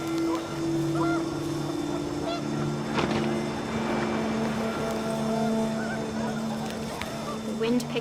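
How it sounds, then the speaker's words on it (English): Panicked geese honk in the video game What Remains of Edith Finch, their calls rising over a steady windy, engine-like drone, with a few brief overlapping honks scattered through the scene. "The wind picked up, and panicked geese appeared and quickly went."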